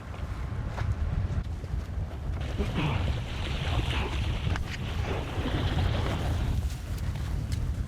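A rescue boat pulls away on the open Arctic Ocean, its low engine rumble running steadily under gusting wind noise and the wash of water, with no voices.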